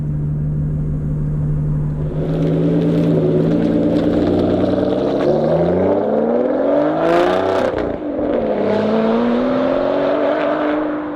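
An Aston Martin V12 drives and accelerates, its loud engine rumbling then climbing through rising revs, dipping briefly at a gear change and building again, heard close from inside the car with no talking.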